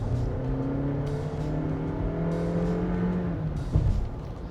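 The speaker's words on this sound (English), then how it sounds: "When you drive a CVT hard," A Honda CR-V with a 1.5 litre engine and CVT is driven hard, its engine droning at high, fairly steady revs with rising whines. The sound is close, loud and continuous, with no voices over it.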